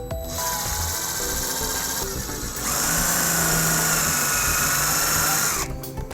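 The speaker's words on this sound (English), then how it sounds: "using a 1/4-inch socket we'll put our self-tapping screw into place" A power drill with a 1/4-inch socket drives a self-tapping screw into a trailer wiring bracket on a 2014 Hyundai Santa Fe, a close, loud whirring motor that rises in pitch as it bears down, then stops.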